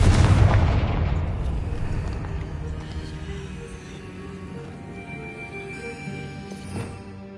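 In the Hogwarts Legacy video game, a Confringo spell explodes with a loud, deep boom up front, and the blast then rumbles and slowly fades into a long tail.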